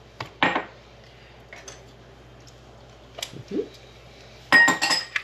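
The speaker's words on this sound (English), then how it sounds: "Put the lid back on." A plastic lid clicks onto a Ninja CREAMi Deluxe ice cream pint: a few short, close clinks and taps in irregular bursts, with brief quiet gaps between them.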